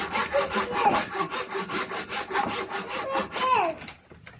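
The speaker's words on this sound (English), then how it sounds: "I can use the saw" A hand saw cuts through wood in quick, steady back-and-forth strokes, close and loud, with the rhythmic rasp continuing for about four seconds before stopping abruptly.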